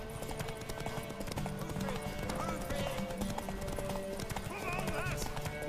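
Horse hooves clip-clopping and a whinny in The Witcher 3: Wild Hunt, steady hoofbeats under in-game dialogue and background music, with a neigh rising near the end.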